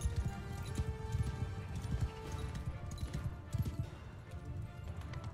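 Cavalry horses gallop in the medieval battle game Mount and Blade 2 Bannerlord, a fairly quiet, busy drumming of many hooves with scattered thuds and clanks of battle mixed in.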